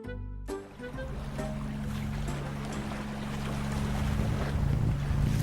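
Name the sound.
ship sailing on water in an animated story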